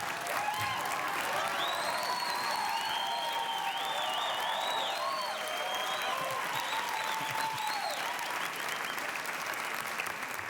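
A studio audience at a late-night talk show claps loudly and continuously, a dense unbroken wall of applause with faint cheering mixed in throughout.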